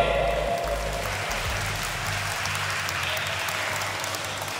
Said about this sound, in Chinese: 先把掌声送给两位